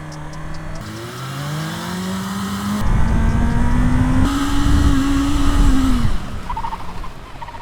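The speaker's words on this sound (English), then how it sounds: "next up we're going to do the brake test from 60 mile an hour." A 2025 BMW S1000RR or 1985 Kawasaki sportbike engine roars loudly and close, pitch rising then falling as the rider slows during a brake test from 60 mph, ending in a lower idle hum.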